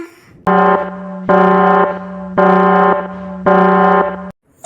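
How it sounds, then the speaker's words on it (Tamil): A loud, harsh electronic buzzing alarm in a cartoon sounds in four evenly spaced bursts, each lasting about a second with short gaps between. "எதுக்கு அலாரம் அடிக்குது?"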